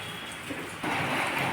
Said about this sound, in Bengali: অনবরত অঝোর ধারায় বৃষ্টি ঝরে পড়ছে